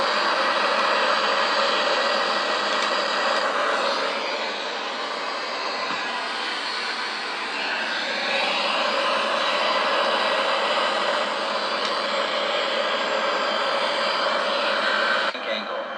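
A Boeing 737-800's jet engines in the X-Plane flight simulator roar in a steady, broad drone that holds for the whole stretch with little change in level.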